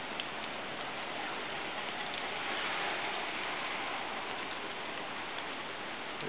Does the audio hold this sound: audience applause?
no